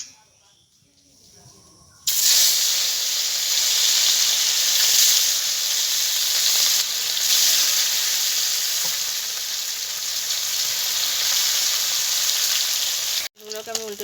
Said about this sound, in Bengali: বন্ধুরা, তেল গরম হয়ে গেছে, আমি মাছটাকে ভেজে নেব।